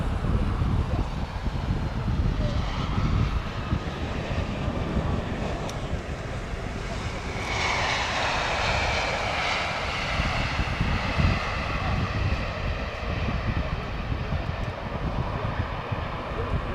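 A heavy airliner approaching LAX in intense rain, its engine roar and broad wind-like rush growing nearer and louder over many seconds, with a person's voice faintly audible over it.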